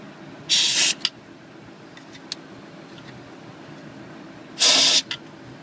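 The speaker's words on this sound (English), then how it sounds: "Need to blow out the bolt holes so you get the proper torque." Compressed air blasts into the bolt holes of a Ford 6.0 Powerstroke diesel engine, two loud, close hissing bursts about four seconds apart, each followed by a brief extra puff.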